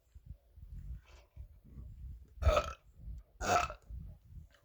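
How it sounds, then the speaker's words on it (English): Two loud, rough burps at close range during a cake mukbang, each about half a second long and a second apart, over low chewing and mouth noises. "I know I might be burping crazily looking."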